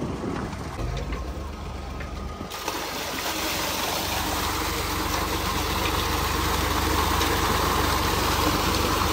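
A tubewell pump engine on a village farm runs steadily after starting, a continuous, dense mechanical drone that swells and then holds at a constant loud level throughout.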